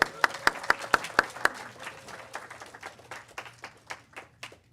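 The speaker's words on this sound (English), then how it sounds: "Let's please extend an extra round of applause for our guest musician" Applause for a guest musician at a spiritual gathering, starting as a handful of sharp, separate claps and spreading into a light scattered round that thins and fades out over a few seconds.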